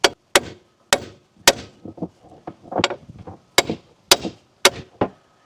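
A hammer bashes on the steering knuckle of a 2013 third-generation Ford Focus to force it down, with sharp metallic strikes in an irregular series of about ten blows and softer knocks between them, close and loud.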